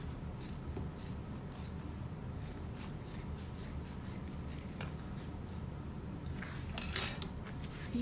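Scissors trim handbag fabric during sewing, a series of soft, close snips and rustling fabric rubs, quiet and intermittent, with a few crisper cuts toward the end.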